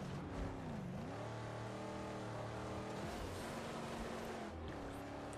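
A car engine drones steadily while driving in the Mad Max video game, its pitch dipping and rising slightly as it moves along, loud and continuous with no talk over it.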